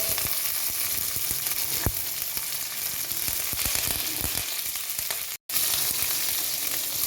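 Green chili and curry leaves fry in hot oil with a loud, continuous crackling sizzle, close and unbroken apart from a brief cut.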